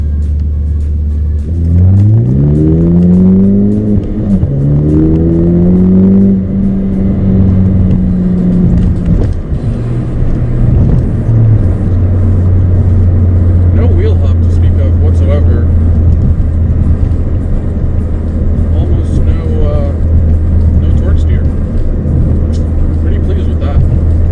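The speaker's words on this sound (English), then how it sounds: "So we'll do a light first gear roll." Car launching in a light first-gear roll with traction control off, the engine revving up loudly in rising sweeps before settling into a deep steady rumble, with a voice speaking over it.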